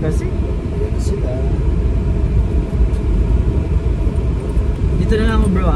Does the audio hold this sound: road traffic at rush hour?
yes